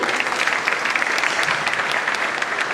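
An audience at a university motivational talk applauds, a dense, steady wash of many hands clapping at once, loud and sustained throughout.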